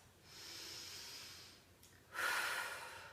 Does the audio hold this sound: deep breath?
yes